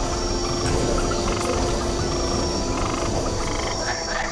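A dense chorus of many frogs croaking together, loud and continuous throughout, with faint insect chirring mixed in and no voices.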